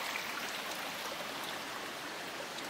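A mountain river rushes steadily, a broad, even hiss of flowing water with no pauses, moderately close and with no one talking.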